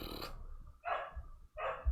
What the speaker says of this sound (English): Pardon my dog.